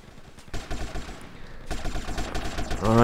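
Bursts of SMG gunfire in GTA San Andreas, rapid automatic shots crackling in quick succession and growing denser, with a brief voice-like sound at the very end.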